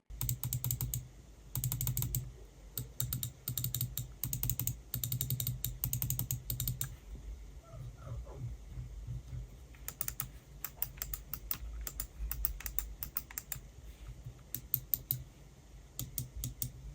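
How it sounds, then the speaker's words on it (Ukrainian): Crisp, rapid plastic clicks of a DM6 Holey computer mouse come in quick bursts, pausing briefly between runs, close and fairly loud with a faint low hum underneath. "Щодо звуку, ця мишка не є тихою і вона на це не претендує. Звучить вона приблизно ось так."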